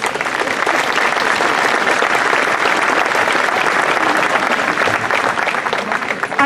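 Loud, dense applause from a large crowd at the Kronenfest in Augsburg, steady clapping that fills the space without pause and stays even throughout.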